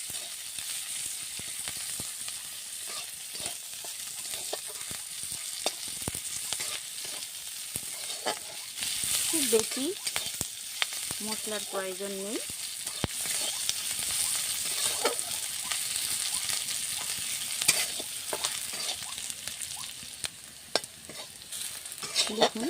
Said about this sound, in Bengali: পেঁয়াজটা একটু ভাজা ভাজা করে ভেজে নেব